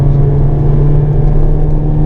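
Car engine pulling hard under acceleration on a race circuit during a track day, a steady loud drone heard from inside the cabin with no talking.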